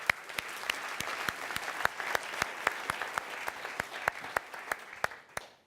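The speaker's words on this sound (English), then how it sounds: "how about a round of applause for Joe?" Sparse applause from a small audience at an entrepreneurship talk, a handful of distinct, evenly spaced claps over a soft bed of quieter clapping, faint and fairly close, fading out at the end.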